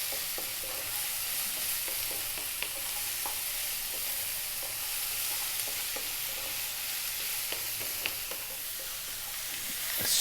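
Chili powder, cumin and oregano frying and sizzling in a pan over medium heat, a steady close hiss with occasional stirring scrapes and small pops throughout.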